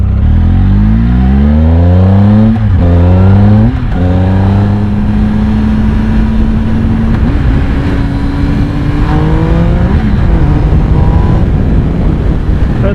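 A 2016 Triumph Speed Triple S pulls hard in third gear, its engine note climbing through repeated rising revs and brief shift dips under heavy wind rush, loud and close for the whole stretch.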